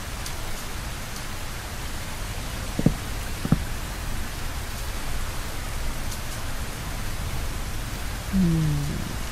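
Rain in the video game Minecraft falls as a steady, even hiss that fills the whole stretch. A couple of faint clicks stand out, and a brief low tone comes near the end.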